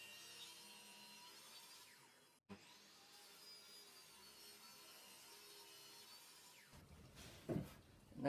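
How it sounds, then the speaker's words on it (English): Wooden boards are ripped into 60mm strips for the sides of a box: a faint, steady whirring saw cut runs on, briefly breaks off partway through, then resumes, ending with a few knocks and no talking. "I shall now cut the boards into 60mm strips."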